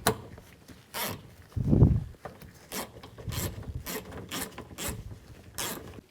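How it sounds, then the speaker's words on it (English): Bolts go into a front exterior door handle on a 2007-2014 GMC Sierra 3500, heard as close ratcheting clicks in short repeated bursts with a duller thump of handling between them. "Now install the bolts."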